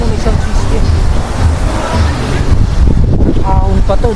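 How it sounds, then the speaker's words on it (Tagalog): Strong gusts roar across the microphone at a riverside camping spot in Mauban, Quezon, a loud continuous rumble with a voice talking faintly underneath. "Medyo mahangin lang"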